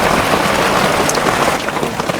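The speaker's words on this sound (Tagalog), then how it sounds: "umuulan dito kasi tingnan mo" Steady heavy rain hits surfaces in a dense, even hiss that lasts throughout, loud and close with no voices over it.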